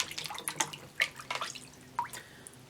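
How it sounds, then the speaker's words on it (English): Water drips and splashes faintly at a sink during handwashing, a few sparse, quiet droplet taps and small splashes scattered over a couple of seconds in a quiet room. "I'm gonna wash my hands,"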